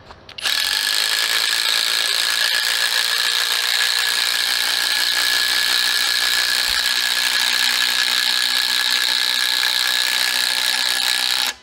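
Skil and DeWalt impact drivers set on high, fully charged, driving four 12-inch Spax screws together; a loud, steady buzzing hammer rattle runs unbroken for about eleven seconds, then stops abruptly, with no talking.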